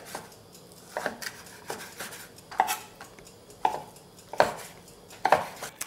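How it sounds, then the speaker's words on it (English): A knife chops tender skirt steak into very small pieces on a cutting board: sharp, close knocks in an irregular rhythm, about seven distinct strikes with brief gaps, no voices. "Cut into very small pieces."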